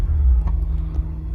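A 1996 Acura NSX-T sports car engine turning over and settling into a deep, steady idle rumble, close and fairly loud, with brief faint clicks on top.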